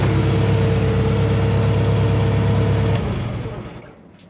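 Idling engine of a TCI H4M40 4x4 forklift warming up, a steady loud low rumble with a humming tone that cuts off near the end and fades to quiet.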